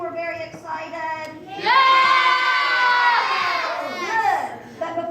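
A crowd of children at a vacation Bible school puppet show shouts together in one loud, sustained excited cheer lasting a couple of seconds, rising and then trailing off.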